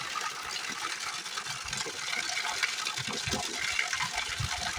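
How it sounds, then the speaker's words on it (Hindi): Water gushes from stones through an old wooden channel in a village, a steady, close, splashing rush that stays loud and even throughout with no talking. "जो ये पानी आता है पत्थरों से पानी आता है"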